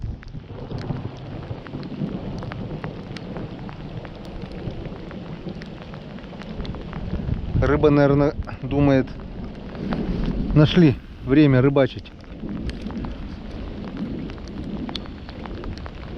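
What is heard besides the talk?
long rolling thunder with rain during a thunderstorm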